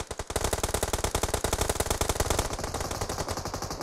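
Machine gun fire in a video game, a loud, steady stream of rapid automatic bursts that carries on without a break for about four seconds, with no talking.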